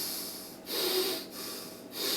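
A voice imitates a baby sniffling through a blocked nose, producing three close, breathy snorting sniffs spaced evenly apart.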